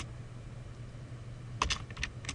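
Brief burst of computer keyboard typing near the end, a few quick clustered keystrokes over a steady low hum while writing conditional statement code.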